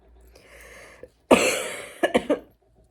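A sharp, close cough followed by a few quick smaller coughs, after a moment of quiet background.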